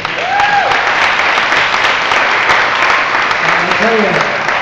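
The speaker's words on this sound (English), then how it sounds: "big round of applause for Nick." An audience gives a big round of applause at a charity radio event, steady loud clapping throughout with someone speaking over it.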